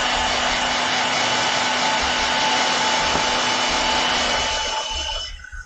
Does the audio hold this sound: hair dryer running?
yes